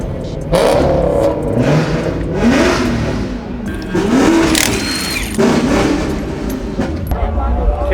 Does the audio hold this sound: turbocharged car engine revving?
yes